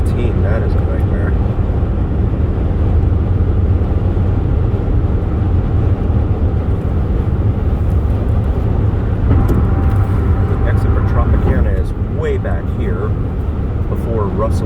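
Dense road traffic on a Las Vegas highway near the 215 exit in the evening, a loud steady rumble of engines and tires from close by, with a voice talking over it.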